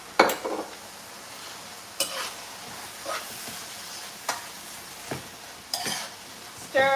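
Mackerel in a pan on a lowered stove with vinegar and ketchup, a soft steady sizzle broken by periodic scraping and clinking as the pan is stirred.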